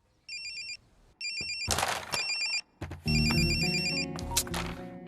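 A phone ringtone plays in repeated electronic bursts, loud and close, broken by clattering noises and rustling in between.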